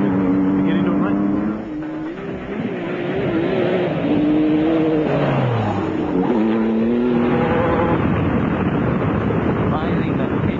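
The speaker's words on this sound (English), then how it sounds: "just give it a little blurt on the throttle" A race car engine revs hard under heavy throttle at a motorsport event, a loud, continuous roar with rising and falling pitch, mixed with wind buffeting on the microphone and people talking over it.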